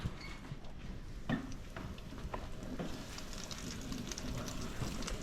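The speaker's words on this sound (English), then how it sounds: "I got a ½ inch of vegetable oil in here. We're gonna fry these" Italian-style crispy cauliflower pieces fry in about half an inch of hot vegetable oil, giving a steady, close, rain-like crackle and sizzle with scattered louder pops throughout.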